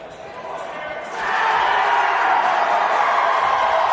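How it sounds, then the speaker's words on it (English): Excited crowd at an arena basketball game swelling into a loud, sustained roar of cheering and whooping that builds sharply and holds, close and dense, with voices mixed in. "Crowd in the background very excited about the shot before it happens."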